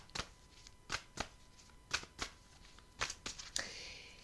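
Tarot cards being shuffled during a love reading, a series of about eight crisp riffling bursts spaced irregularly, close and fairly quiet, with no talking.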